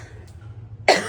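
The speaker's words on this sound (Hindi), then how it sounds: "खांसी।" After near silence with a faint low hum, a single sharp, close cough bursts out and trails off briefly.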